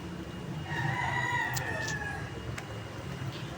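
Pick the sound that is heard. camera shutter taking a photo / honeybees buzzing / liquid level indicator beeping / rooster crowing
rooster crowing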